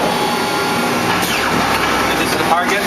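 An Accura Easycut guillotine paper cutting machine running, a steady loud mechanical whir and hum with a faint sliding sweep partway through, continuous and close.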